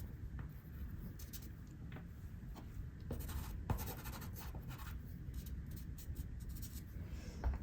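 A fingertip rubs and blends soft pastel on paper in a landscape drawing, a faint, continuous dry scratching and brushing with small strokes, close and quiet with no voices.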